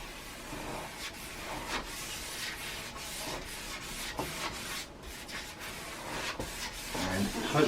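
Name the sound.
brush applying varnish to an oil painting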